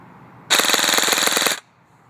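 A custom-built ACR airsoft gun fires a single full-auto burst of 0.25 g BBs, a loud, rapid buzzing rattle lasting about a second, close up and alone.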